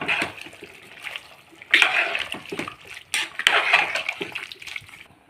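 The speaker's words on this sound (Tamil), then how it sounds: "இப்போது தண்ணி சேர்க்கலாம்" Water poured into a pot of goat intestine gravy, two separate bursts of splashing, gurgling pouring, each lasting about a second and a half, close and moderately loud, with no talking.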